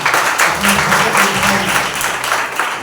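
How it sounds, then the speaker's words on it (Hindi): A church congregation at a Sunday service claps loudly, with dense and fairly steady applause filling the room and faint voices mixed in beneath it. "जोरदार एक ताली बजाइए।"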